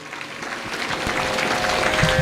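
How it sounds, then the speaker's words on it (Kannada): Dense, loud applause from an audience at a Kannada devotional storytelling event, a steady wash of many clapping hands that swells slightly and keeps going to the end. "ಒಂದು ಸಾರಿ ಜೋರಾಗಿ ಚಪ್ಪಾಳೆ ತಟ್ರ"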